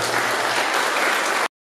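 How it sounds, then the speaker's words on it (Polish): A crowd at the Tychy race track during a Classicauto Cup round claps steadily and loudly for a moment before the sound cuts off abruptly. "Tomala, Maciej Świętowa, Grzesiek Kowalski, wielkie brawa, jeszcze raz"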